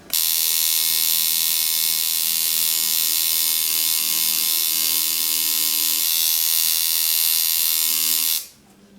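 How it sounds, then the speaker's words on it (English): Tattoo machine lining skin, a loud, steady high-pitched electric buzz running close and unbroken for several seconds before cutting off abruptly at the end. "This is why noises are real important in tattooing and let you know your machine's running good."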